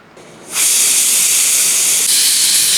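A pressure cooker cooking mutton curry lets out a loud, sustained steam whistle, a sharp hiss that bursts in after a quiet moment and holds steadily to the end.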